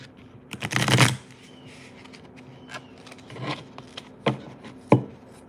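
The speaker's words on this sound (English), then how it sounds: "I'm gonna do one more shuffle." A deck of cards riffled in one strong burst near the start, followed by a few sharper single snaps and taps as the cards are squared, close and clear with no talking.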